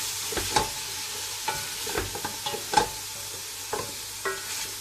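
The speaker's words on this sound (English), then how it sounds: "Keep gently mixing it." A utensil stirs prawns for biryani in a hot pan, giving a few scattered scrapes and clinks over a soft, continuous sizzle, close and fairly quiet.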